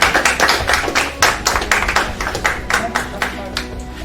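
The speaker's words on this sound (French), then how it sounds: "public, pourquoi vous n'applaudissez pas?" Studio audience on a game show clapping in a quick, uneven rhythm of distinct claps, fairly close and loud, with a voice speaking faintly beneath.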